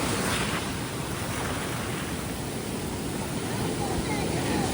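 Ocean waves at high tide on Playa Avellana beach in Costa Rica, a loud, continuous wash of surf with wind buffeting the microphone, no break in the roar.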